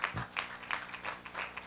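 Audience applause at a real estate conference, a brief stretch of scattered, moderately distant clapping that rises and falls in quick bursts.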